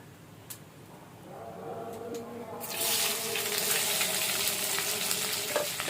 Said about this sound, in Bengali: এবার ওই তেলের মধ্যে দিয়ে দিচ্ছি পেঁয়াজ কুচি